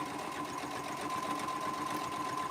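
A sewing machine runs steadily while stitching binding onto a quilt at a 3/8-inch seam, giving a fast, even mechanical whir with a constant pitch, close and moderately quiet, with no talking.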